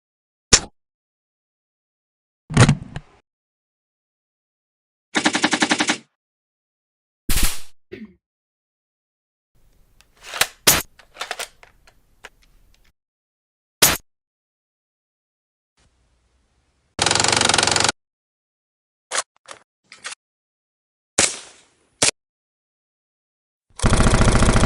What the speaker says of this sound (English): I'm gonna make SMG. SMG shot.